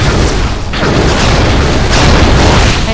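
Ship explosions in the video game Star Trek Bridge Commander, a continuous loud roaring blast with rumbling booms and crackle filling the whole stretch without pause.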